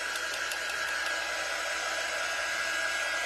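Steady whirring hair dryer blowing continuously at close range, drying black and white window paint paste for a snowman holiday window scene, with no talk over it.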